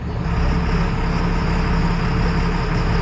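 A tractor working ground runs with a deep, steady engine rumble that carries a rough grunting tone, loud and close, with no talking over it.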